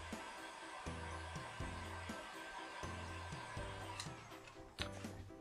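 A heat tool blows a steady, faint whirring stream over freshly applied resin to make it flow, with soft rhythmic ticking underneath.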